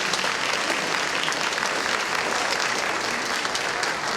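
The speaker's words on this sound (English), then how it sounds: "giving them a round of applause" Audience at a May 2014 nursing pinning ceremony applauds the students' support systems, a loud, continuous wash of many hands clapping with no break from start to finish.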